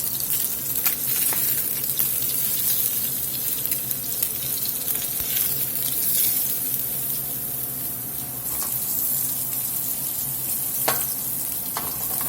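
Blackened salmon fillets, flipped over onto the flesh side in a pan over medium heat, sizzle and crackle steadily and loudly, with a few sharp pops and clinks along the way.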